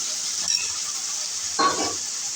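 Pumpkin and boiled taro leaves for a taro-leaf shukto are stirred in a pan. Two soft, brief scraping strokes sound over a steady, quiet sizzle.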